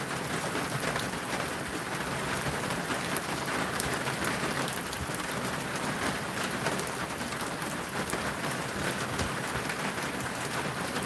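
Steady rain falls continuously, a dense, even hiss of drops on surfaces that stays at the same level from start to finish, with no voices.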